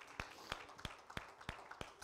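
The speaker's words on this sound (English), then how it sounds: "Give the Lord a great big hand clap" A church congregation clapping in unison, six sharp, evenly spaced claps at a steady rhythm, quiet and somewhat distant in a reverberant hall, with no talk over them.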